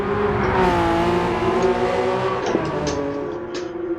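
A car lapping the Nürburgring on a slippery track with cold tyres: a loud, steady engine drone with a brief dip and recovery midway as a gear change goes through.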